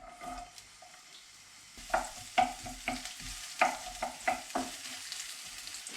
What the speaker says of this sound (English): a little touch of oil, onion in